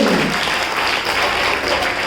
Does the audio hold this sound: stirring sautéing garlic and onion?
no